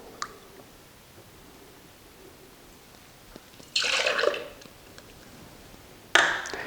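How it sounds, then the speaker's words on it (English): Half a cup of milk splashes into a cocktail shaker holding ice while an iced espresso drink is being made, heard as two brief liquid bursts at close range with no talking. "Go ahead and put our half a cup of milk in our shaker."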